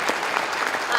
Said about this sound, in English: I want a round of applause to get you moving too for sharing.